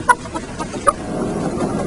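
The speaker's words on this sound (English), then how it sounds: "COK investigators rescued 8 hens in dire need of medical attention" Rescued battery hens from a large egg farm cluck in short, separate bursts, two sharper calls standing out above a steady low background hum.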